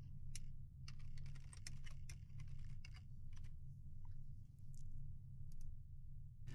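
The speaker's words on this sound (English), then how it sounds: "I hope I typed that in correctly" Fingers tap on a computer keyboard in quick irregular clicks over a steady low hum, moderately close and with no speech.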